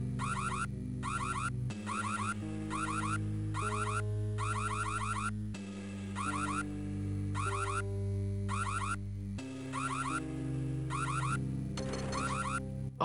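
A looping electronic alarm in the video game Max Payne wails in repeating warbling bursts over a droning synthetic tone, steady and continuous throughout with no talking.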